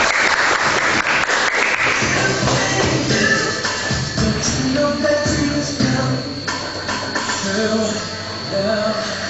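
A school auditorium audience at a nursing students' session claps steadily and loudly for the full stretch, a dense, sustained round of applause with faint crowd shuffling underneath.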